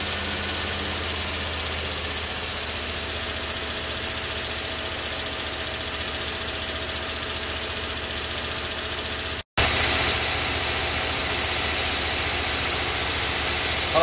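Car engine idling steadily with a dense mechanical clatter suggesting valve lifter tick, heard close and continuous with a brief dropout near the end; no talking.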